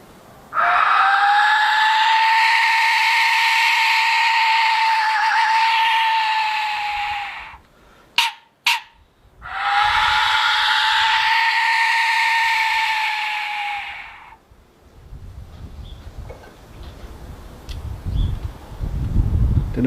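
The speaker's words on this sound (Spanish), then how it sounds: "Silbato de la muerte Jecachixtli o Mictlanxictli. Su sonido es caótico y recuerda también en parte al viento." An Aztec death whistle gives two long, harsh, chaotic wind-like shrieks, loud and close, separated by a brief gap with a couple of sharp clicks, followed by quieter rustling and handling noise.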